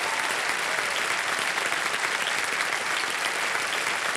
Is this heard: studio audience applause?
yes